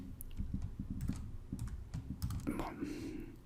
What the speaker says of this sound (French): sans me tromper encore une fois avec le clavier